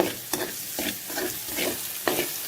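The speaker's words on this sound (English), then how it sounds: "Just stir fry them until the onion becomes soft and kind of caramelizes" Sliced onions sizzle in a hot pan while being stir fried for a curry leaf chicken dish, with a spatula scraping in quick, irregular strokes over the steady frying hiss.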